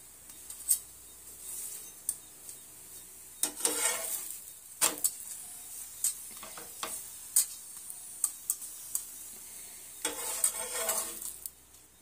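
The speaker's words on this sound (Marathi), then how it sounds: "अशा प्रकारे आता आपल्याला हा पराठा शेकून घ्यायचा आहे." A bread and potato paratha roasting oil-free on a pan, with soft sizzling and repeated light scrapes and taps of a spatula against the pan, close and fairly quiet, no talk.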